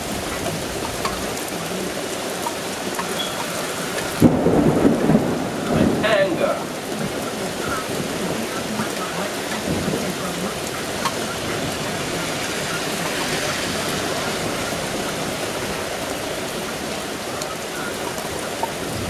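A thunderstorm with heavy rain hisses steadily throughout, with a louder burst of rumbling thunder early on. A voice talks faintly in the background.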